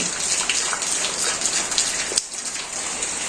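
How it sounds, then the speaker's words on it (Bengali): Steady rain pouring down, a dense continuous hiss of drops hitting a surface, loud and close, with no voices. "আর বৃষ্টি হয়েছে"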